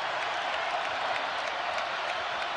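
Faint, steady applause and crowd noise from about 14,000 fans in a college basketball arena at a Texas Tech vs Kansas State game, rising after a made three-pointer.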